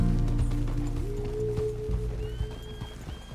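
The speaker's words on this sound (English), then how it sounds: "Please, control that horse." Horse hooves clip-clopping with a whinny in the Red Dead Redemption 2 game, the hoofbeats and neigh sitting steadily under music and ambient sound.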